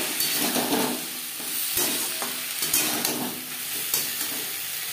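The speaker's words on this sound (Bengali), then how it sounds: "সবজির সাথে জিরের গুঁড়ো বেশ ভালো করে মিক্স করে দেবো।" Vegetables being stirred with roasted cumin powder in a pan, a continuous close sizzle with soft scraping strokes and occasional light taps of the spoon, no voices.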